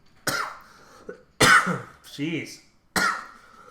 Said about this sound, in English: I like how you look straight into the microphone when you cough.